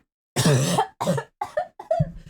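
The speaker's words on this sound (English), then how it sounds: "Sorry, coughing baby moment." A series of four sharp coughs, close and loud, the first longest and the rest shorter, with brief silences between.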